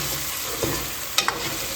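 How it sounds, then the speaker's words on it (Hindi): Ginger garlic paste fries in hot ghee with a continuous dense sizzle, broken by a few light scraping clicks of stirring near the pan. "अदरक लहसुन की पेस्ट को भी अच्छी तरह से भून लिया"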